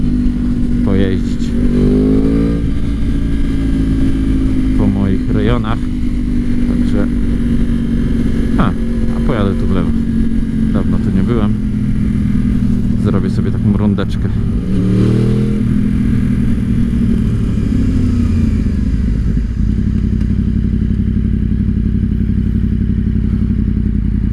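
A motorcycle is ridden on a first outing, its engine droning loud and close with shifting pitch as it speeds up and slows, along with thumps and clatter, while a voice talks over it at times.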